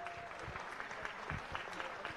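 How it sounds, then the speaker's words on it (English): Audience applause fills a children's runway fashion show in Bengaluru, a steady, moderately distant patter of many hands clapping without pause. "I would appreciate if you can clap your hands one more time to all the lovely little rock stars"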